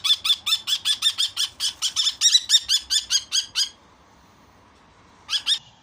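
A bird squawks in a rapid repeated series of harsh calls, then falls silent before a brief final burst, close and loud.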